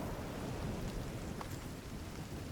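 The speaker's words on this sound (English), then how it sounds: "this rain's gonna suck actually for defense" Steady, dense hiss of heavy rain with low rumbling in a video game, continuous and fairly quiet with no speech.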